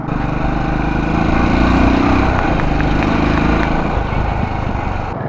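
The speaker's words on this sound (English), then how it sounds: "I love the exhaust sound" A Royal Enfield Bullet 500 Classic, a 500cc single-cylinder motorcycle, rumbles loudly and close from its exhaust in a deep, steady, throbbing idle with no voices over it.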